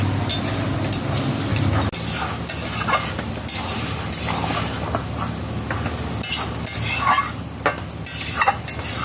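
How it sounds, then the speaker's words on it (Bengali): Cumin paste, ginger paste and rice flour are stirred in a pan for a rural Bengali potato and Malabar spinach dish, with a spoon scraping loudly and a light sizzle underneath, close and continuous, with no voices. "জিরা বাটা, আদা বাটা, চালের গুঁড়ো রেডি করা ছিল, এটা এখন নাড়াচাড়া করে নেব।"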